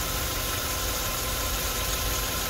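A Kia car engine with original untouched valve cover idles smoothly and steadily up close, a low even hum with no voices over it.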